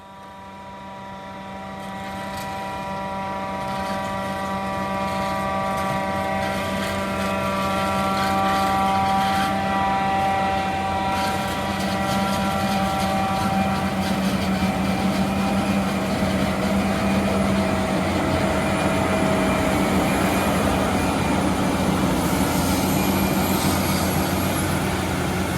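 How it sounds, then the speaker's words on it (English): A John Deere 9500i forage harvester with row sense chops corn across a field, its engine a loud, steady drone with a constant low hum that builds over the first few seconds and then holds with a dense rushing roar. "As the Forage Harvester makes its way across the field"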